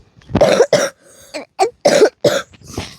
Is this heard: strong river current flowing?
no